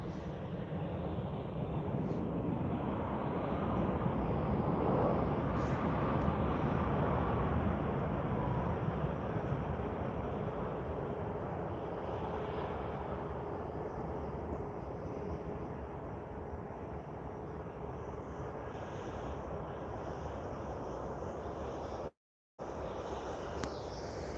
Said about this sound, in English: We're gonna have two Air Canada MAX 8s crossing right here.